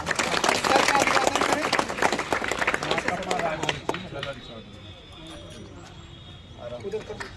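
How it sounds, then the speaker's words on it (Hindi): An audience at a memorial event for Lakhon Devi, opening an ambulance service and library, gives loud sustained applause that fades after about four seconds, leaving quieter crowd murmur, with voices speaking over it. "एक बार जोरदार ताली से"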